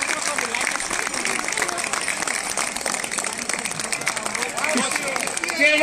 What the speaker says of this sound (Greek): Για τον Γαμπρέο χειροκρότημα!